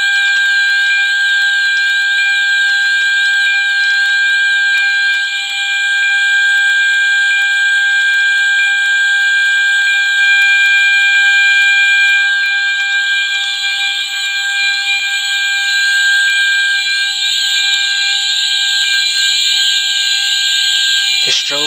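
Fire alarm in a Roblox video game inspection, with FCI pull stations, sounding as a loud, steady, continuous electronic tone that holds unbroken for about twenty seconds before cutting off at the end.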